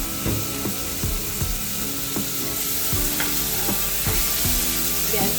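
Tomatoes with salt frying in a pan, a dense steady sizzle punctuated by repeated wooden scrapes and taps of a stirring spoon, close and loud with no talking.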